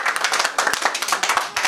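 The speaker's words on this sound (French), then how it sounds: "on applaudit pour elle" Audience at a worship gathering clapping for a singer, distinct rhythmic claps close by with a lively, slightly uneven beat over a brief burst.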